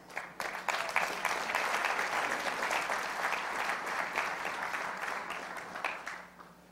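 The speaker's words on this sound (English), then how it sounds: "Clap." An audience at a talk on leadership and personal transformation applauds steadily, a dense, moderately faint wash of clapping that holds throughout and tapers off at the end.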